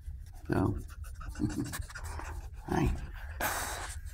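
A dog pants in short bursts close by, with scratching and shuffling noises between the breaths.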